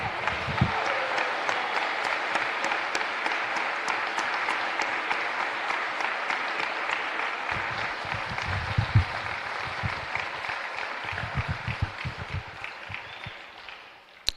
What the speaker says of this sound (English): I think you should all stand again to provide another round of applause